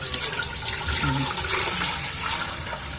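Water poured into a cooking vessel in a home kitchen for a glass cake recipe, a steady close splashing fill running without a break, no talking.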